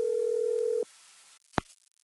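A telephone dial tone hums steadily for under a second, then stops, followed by a short click and a faint line hiss.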